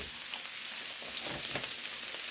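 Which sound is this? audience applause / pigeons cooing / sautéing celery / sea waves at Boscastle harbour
sautéing celery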